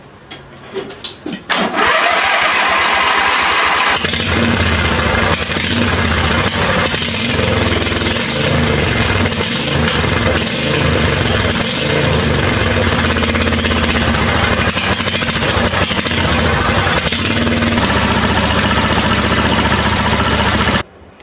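A small engine with a freshly cleaned carburetor, new spark plug and new exhaust sputters briefly, then catches and runs loudly and steadily for about twenty seconds before cutting off.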